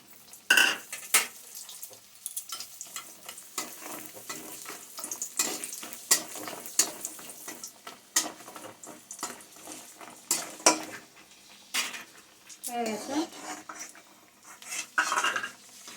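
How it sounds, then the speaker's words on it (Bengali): Bori, Bengali lentil dumplings, fry in a pan for shukto, giving a steady close-up hiss and sizzle punctuated by frequent sharp metal utensil clinks and scrapes against the pan, with no talking. "এবার বড়িটা ভেজে নেব আমি"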